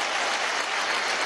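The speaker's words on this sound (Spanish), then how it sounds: "Un aplauso a la Fuerza Armada Nacional Bolivariana." Dense, steady applause from a large audience at a Venezuelan armed forces event, a continuous wash of clapping filling the whole moment with no voices on top.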